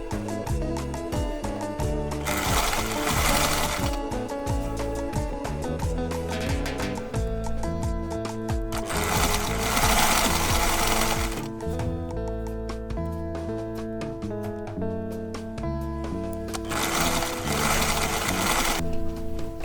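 A Refrey sewing machine stitches the seam of a long skirt in a loud, close, continuous whir broken into several bursts, with short pauses between runs.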